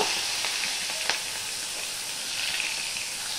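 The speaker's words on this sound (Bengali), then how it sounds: "দিয়ে মাছগুলো আমি হালকা করে ভেজে নেব।" Prawns lightly frying in a pan, a steady bright sizzle and hiss with a few small pops and clinks, close and continuous, no talking.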